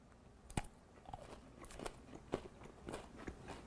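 Hershey's Waffle Layer Crunch dulce de leche candy bar bitten and chewed: five or six sharp, close crunches at irregular intervals, fairly quiet, no voices.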